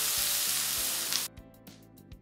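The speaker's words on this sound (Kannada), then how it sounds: "ಬಿಸಿಯಾದ ಕೂಡಲೇ ಇಂಗನ್ನು ಹಾಕಿ ಬೆಂಕಿಯನ್ನು ಆರಿಸಿ ಈ ಬಿಸಿಯಾದ ಎಣ್ಣೆಯನ್ನು ಅಕ್ಕಿ ಹುಡಿಯ" Hot oil with asafoetida poured over a rice flour mixture for jackfruit-seed nippattu, giving a loud, dense sizzle that cuts off abruptly after about a second, leaving faint crackles and light taps.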